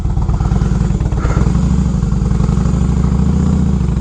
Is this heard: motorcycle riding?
yes